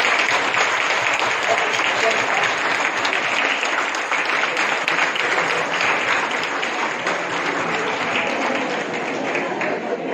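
An audience at an International Women's Day study circle event applauds steadily for the whole stretch, a dense, even wash of many hands clapping.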